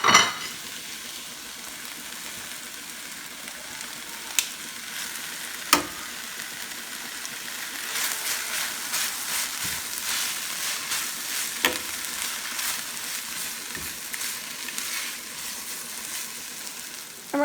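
Poblano peppers and onions sizzle and fry steadily in a hot pan, a continuous crackling hiss with a few sharp clicks and utensil knocks scattered through, no voices.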